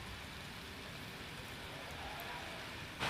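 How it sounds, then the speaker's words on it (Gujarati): Light, steady rain falls over Ahmedabad, a continuous even hiss with no voices, swelling slightly louder in the final moment. "અમદાવાદમાં ધીમી ધારે જે વરસાદ વરસી રહ્યો છે"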